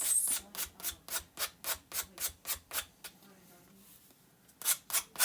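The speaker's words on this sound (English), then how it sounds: "A little sanding on these edges" Rhythmic scratchy sanding strokes on edges, about eight quick back-and-forth rubs, pause, then resume briefly, close up and fairly quiet.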